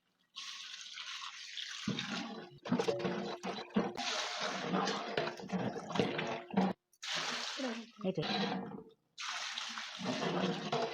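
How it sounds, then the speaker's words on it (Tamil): Water poured in repeated cupfuls onto basmati rice in a pot, several splashing pours separated by short gaps, close and fairly loud, with someone talking between and over them. "நம்ம வந்து இப்போ பத்து கப்பு தண்ணி ஊற்ற போகிறோம்"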